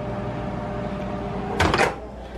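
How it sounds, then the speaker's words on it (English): A microwave oven heats a breakfast meal with a steady low hum throughout, then a short burst of clattering near the end, like the door or a cupboard being handled, indoors in a kitchen. "Got multi meal in the microwave."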